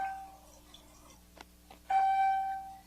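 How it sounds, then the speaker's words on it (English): A few soft electronic clicks, then a clear bright chime from an AlkaViva Jupiter Melody JP104 water ionizer entering self-cleaning mode, ringing out and slowly fading in a quiet room. "The machine will go into self-cleaning mode indicated by the chime you just heard"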